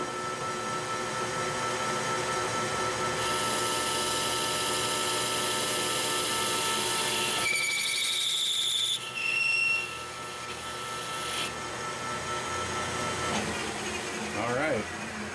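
Steel press plate being machined with one deep 77-thousandths cut, giving a loud, sustained metallic grinding roar with high squealing tones that shift midway and briefly change pitch near the end.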